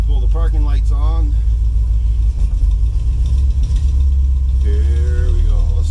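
A 1965 Ford Thunderbird parts car runs steadily after starting, a close, constant low rumble throughout with someone talking over it.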